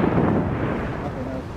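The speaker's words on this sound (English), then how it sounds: "Those are fireworks." Fireworks go off outdoors near a university campus, heard as rumbling booms with wind buffeting the microphone. They are loudest at the start, then settle into a continuous low roar.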